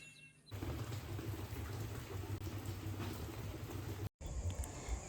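Steady heavy rain pours down outdoors after a night of continuous downpour, a dense, even hiss with low rumbling underneath that runs unbroken except for a momentary dropout near the end.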